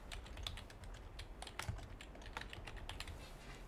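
Rapid keystrokes on a computer keyboard, entering text into the Ghost Recon Igor mission editor; steady, close clicking taps in an irregular rhythm, no voices.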